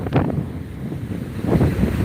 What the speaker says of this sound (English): But I'm going to get out of this wind.